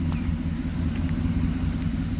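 A truck's engine idles in a work parking lot, a steady low rumble close by with no talking.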